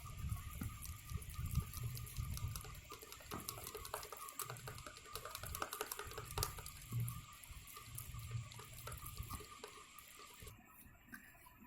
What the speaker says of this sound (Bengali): এবার এর মধ্যে দেব অল্প একটু জল।